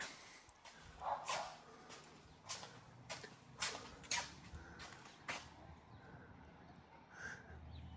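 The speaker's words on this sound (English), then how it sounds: "This dog across the street just barks." A dog across the street barks in faint, distant bursts, spaced irregularly against quiet outdoor background noise.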